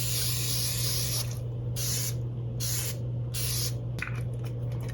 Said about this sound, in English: So let's try that Evian facial mist again.